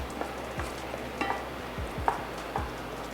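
Scotch bonnet pepper dropped into a hot pan of oil for Jamaican escoveitch fish, giving a soft steady sizzle with several quiet stirring scrapes and taps close by.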